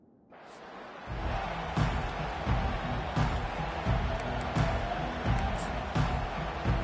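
A football stadium crowd at a game against Texas swells into a sustained roar after a quiet start, with rhythmic thumps and claps pulsing through the loud, distant-sounding cheering.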